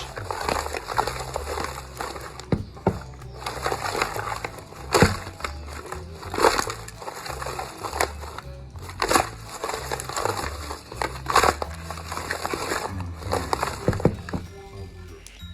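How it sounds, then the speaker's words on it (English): Crispy fried chicken wings crunching loudly and repeatedly up close, with sharp crackly bites and rustles in an irregular rhythm and no talking. "Listen to all that crunch."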